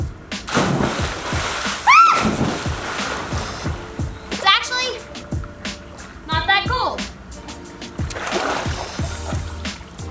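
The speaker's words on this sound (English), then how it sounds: "now we have to jump in the pool" People jump into a backyard swimming pool, throwing up bursts of splashing and sloshing water, mixed with lively nearby voices talking and calling out throughout.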